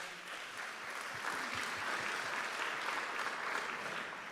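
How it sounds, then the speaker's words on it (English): Audience at an annual organisational meeting breaks into applause, a dense, even wash of many hands clapping at moderate distance that holds steady throughout. "Tricia, let's give a round of applause for Tricia."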